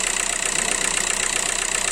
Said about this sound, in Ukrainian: Але взагалом двигун працює гарно.